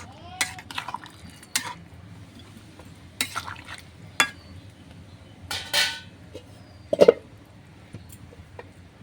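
Spoon stirring garam masala into a snakehead fish curry in a pot, heard as scattered scrapes and clinks at close range, separated by quiet stretches.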